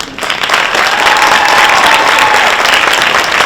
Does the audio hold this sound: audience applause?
yes